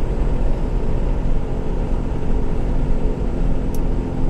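A 2003 Dodge Ram 2500 pickup drives along with a steady low engine and road rumble from inside the cab and a brief faint tick near the end.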